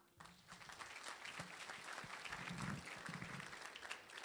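An audience at a business pitching campaign event in Ekurhuleni breaks into steady, sustained applause, many hands clapping together and growing fuller before holding at an even level.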